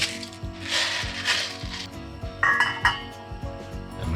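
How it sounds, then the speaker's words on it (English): Peppercorns poured into a metal cooking pot of water, a run of small clinks and rattles against the pot, close and moderately loud. "Put in some peppercorns."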